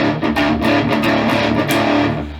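An electric guitar through a Behringer Heavy Metal HM300 distortion pedal, gain at maximum, rings out loud, saturated chords that sustain and slowly decay, played alone.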